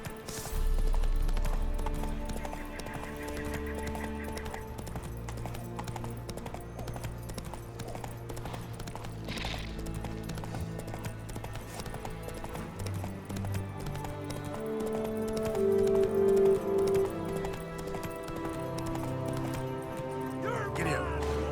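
Roach, Geralt's horse in The Witcher 3: Wild Hunt, gallops with rapid rhythmic hoofbeats over a continuous game soundtrack, a brief whinny-like sound and clatter partway through, plus a short spoken line near the start.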